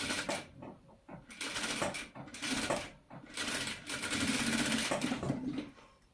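Sewing machine stitching a seam on a hoodie, running in several short bursts with brief pauses between, a steady rapid mechanical chatter close by and fairly quiet.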